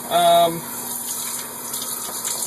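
A running home shower hisses steadily, with a brief tonal squeal at the start before the water noise carries on evenly.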